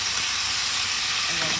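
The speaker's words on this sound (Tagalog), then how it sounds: "Haluin natin ulit." Bitter gourd and beef sizzle steadily in a hot pan while being stirred, a dense continuous frying hiss close up with faint scraping underneath.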